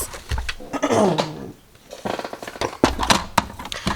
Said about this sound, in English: that was me clearing my throat